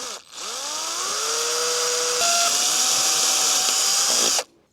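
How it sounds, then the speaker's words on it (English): A power drill boring pilot holes into a bike frame: the motor whines up in pitch, holds a steady high drone with one shift partway through, then cuts off cleanly, loud and close. "where we start drilling holes in our bike"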